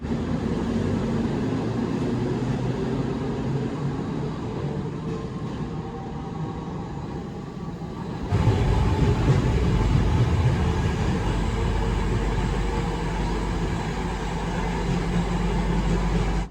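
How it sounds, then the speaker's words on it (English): Steady rumbling ride noise inside a Tampa streetcar, a continuous low drone that grows louder and rougher halfway through as it speeds along. "I'm here just waiting for the train and going on a little bit of a ride."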